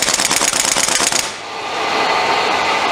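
A loud air impact gun rattles in a fast continuous burst against stubborn bolts on an Audi R8 in a workshop, then stops and gives way to a steady hiss of compressed air.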